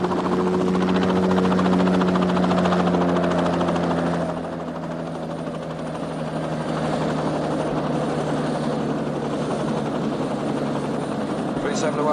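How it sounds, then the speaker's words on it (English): A helicopter makes a loud, steady rotor drone close by for the whole stretch, its tone shifting slightly midway as people talk over it. "It looks like a helicopter pickup for a Juka"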